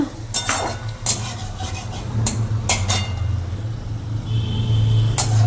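Tomatoes and peas are stirred in a pan for a vegetarian paneer dish, giving several sharp metallic scrapes and clinks of a spoon against the pan over a low background hum.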